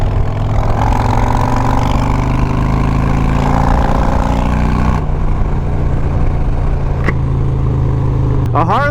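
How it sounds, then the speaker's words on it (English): A Harley-Davidson Road Glide motorcycle fitted with loud aftermarket pipes idles steadily, its deep, continuous engine rumble close and loud throughout, with a brief higher mechanical whine near the end. "A Harley isn't a Harley until you throw a loud set of pipes on them and let them sing."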